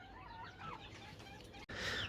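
Continuous soft chirping of chicks, busy and overlapping, ending with a brief louder burst of peeps.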